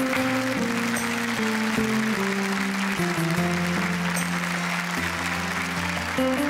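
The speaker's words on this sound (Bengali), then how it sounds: "একটা জোরে হাততালি দেবাঞ্জলি দিচ্ছে।" A studio audience on a Bengali TV game show claps loudly and steadily under bright music with a descending melody, and the applause keeps going without a break.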